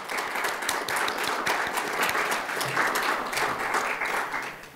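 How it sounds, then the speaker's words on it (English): An audience applauds a combined panel of candidates at the close of a candidate-statement session, with steady, dense clapping that continues at an even level throughout and no one speaking over it. "And shall we applaud for the combined group?"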